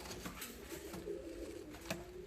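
Fancy costume pigeons coo softly nearby, with low, drawn-out throaty calls over a quiet, hissy background.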